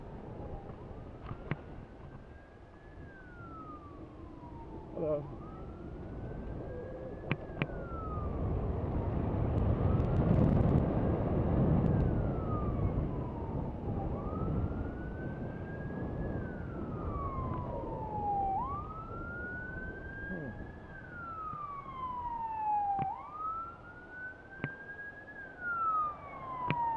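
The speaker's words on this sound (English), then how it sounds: "Oh, ambulance. It's heading back into Aspen," An ambulance siren wails, sweeping up and down repeatedly in long rising and falling cycles over a steady rumble of passing traffic in Aspen, Colorado, fairly close and loud.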